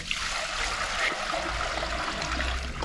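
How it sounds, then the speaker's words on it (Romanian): Tap water runs steadily into a cast-iron pot for pork aspic, a continuous close rushing and trickling stream with no pauses. "Îl voi umple cu apă"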